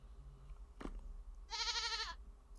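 A goat in the Vintage Story video game lets out a single nasal, wavering bleat lasting about half a second, preceded by a short thud and surrounded by quiet ambient hum.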